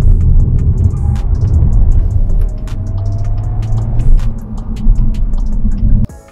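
A 2022 Skoda Octavia RS, an inline four-cylinder piped with an artificial V8 engine sound, gives a close, steady, deep rumbling drone that holds for about six seconds before cutting off abruptly.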